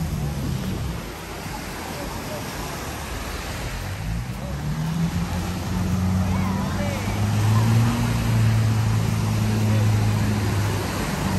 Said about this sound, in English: A little bit loud because of the diving boats